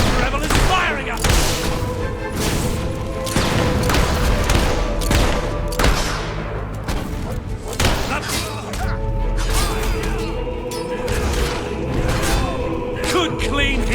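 Rebel gunfire in the video game Fable 3 crackles as a dense fusillade of shots and thuds with booming impacts, sustained and loud throughout, over a busy battle mix.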